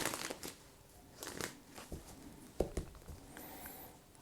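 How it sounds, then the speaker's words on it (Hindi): Tarot cards shuffled by hand during a Hindi love reading, giving soft, uneven riffling and patting bursts at close range with a few sharper taps, no talking. "जस्ट मैं क्विकली इसको शफल कर लेता हूँ"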